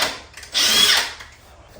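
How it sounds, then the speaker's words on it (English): A power drill bores a hole in stair nosing in one short whirring burst of about half a second, close and clear with no voices. "So kind of the last step with the nosings is I've been drilling in holes."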